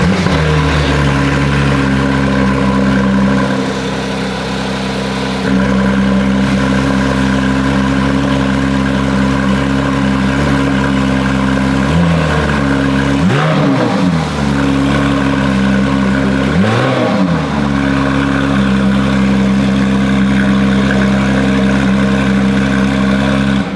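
A Porsche 911 GT3 (not the RS) engine settles into a loud, steady idle after starting, then gets two sharp, brief revs that rise and fall before it drops back to idle, close by and heard alone.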